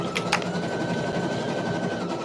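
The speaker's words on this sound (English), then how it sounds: "let's sew this last part" A sewing machine runs in one short continuous burst of rapid stitching, close and fairly loud, with a couple of quick clicks at the start and no talk.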